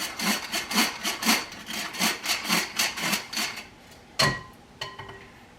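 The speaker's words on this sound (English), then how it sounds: "sift that together with the flour" A flour sifter with baking soda and flour gives about a dozen rhythmic scraping strokes, close and fairly quiet. A couple of sharp knocks follow as it stops.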